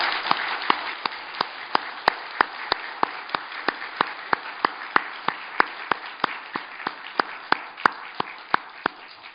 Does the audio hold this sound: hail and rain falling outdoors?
no